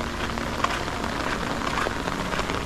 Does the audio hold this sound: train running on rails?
no